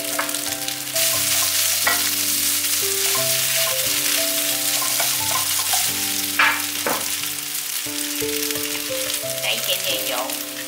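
Sliced water bamboo shoots are stir-fried in a hot pan, giving a steady sizzle broken by scraping and stirring strokes, with soft background music and no talk.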